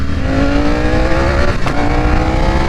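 A 2021 Ducati V4R motorcycle engine drones loudly and steadily while being ridden through traffic, its pitch holding a steady tone before dipping and picking up again, with wind rush mixed in and no talking.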